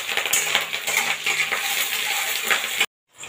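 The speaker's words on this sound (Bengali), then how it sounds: "এটা ভাজতে ভাজতে দেখবেন খুব সুন্দর একটা ফ্লেভার আসছে" Chicken and capsicum pieces frying in a pan for a spicy chatpata chicken dish, a dense, loud, bright sizzle with small metallic taps, close up, before cutting off abruptly near the end.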